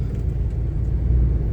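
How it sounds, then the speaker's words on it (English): Steady low road traffic rumble on slippery roads with heavier-than-usual cars and school buses, a continuous engine drone with a slight swell near the end and no voices. "Quite a bit of traffic"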